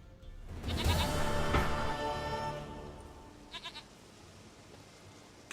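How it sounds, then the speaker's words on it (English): A goat in The Witcher 3 bleats several times in a loud, wavering run that fades out, then gives a shorter pair of bleats; no one speaks. "sweetest goat."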